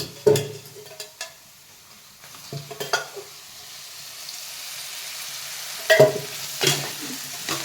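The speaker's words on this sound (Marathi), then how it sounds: "परतून घेतो परतून घेतो" Potatoes sautéed in a little oil in a pan, a few sharp spoon scrapes and stirs at close range with quiet gaps and a faint sizzle between them.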